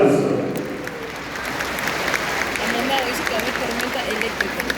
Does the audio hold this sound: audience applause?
yes